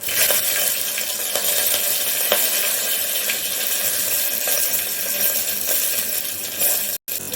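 Curry leaves and finely chopped onion sizzle in hot oil for Kolhapuri misal, a steady loud crackling frying sound with a few utensil clinks.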